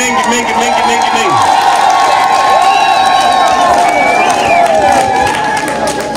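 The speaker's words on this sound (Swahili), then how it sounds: "Piga makofi mengi." A large outdoor crowd at a campaign rally in Mgodechi claps and cheers loudly and continuously, with high shouts and whoops rising above the sustained roar of applause.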